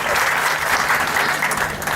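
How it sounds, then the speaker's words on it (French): A crowd at a school end-of-year ceremony applauds steadily and loudly, a dense wash of many hands clapping throughout with no pauses. "On applaudit"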